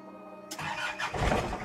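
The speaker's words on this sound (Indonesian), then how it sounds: "Wis kita coba starter sekarang." A 1995 Daihatsu Rocky's starter cranks briefly and the engine catches, the sudden loud mechanical grind rising into a rough running rumble, heard close.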